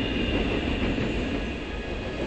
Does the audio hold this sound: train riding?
yes